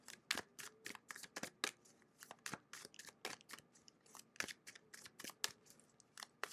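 Tarot cards being shuffled and drawn, a rapid run of crisp riffling snaps and flicks repeating steadily, close and fairly quiet with no talk.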